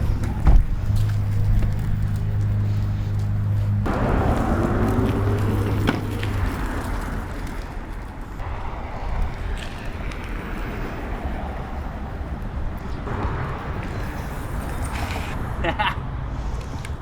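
A G-Force S10 electric scooter on a short test ride produces a low motor whine and rolling road and wind noise, with brief tonal rises as it accelerates and slows.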